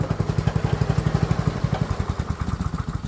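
Small lawn mower engine running right after a squirt of starter fluid, a close, loud, rapid even chugging at a steady idle-like rhythm with mechanical clatter.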